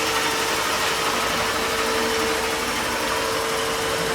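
A 1998 Doral 300 SC boat's inboard V-drive engine idles steadily near 1000 RPM, close by, exhaust echoing off a dock, with a constant drone and a faint tonal whine over broadband noise, no talking.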